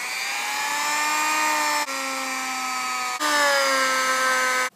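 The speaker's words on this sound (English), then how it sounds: "So now we're gonna use our polishing wheel on the Dremel." A Dremel polishing wheel with buffing compound whines on a Remington 870 shotgun part, a loud steady high-pitched drone in three runs with brief dips and a slight pitch shift, no talking.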